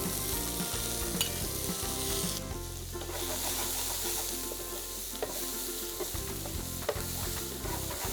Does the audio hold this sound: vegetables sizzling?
yes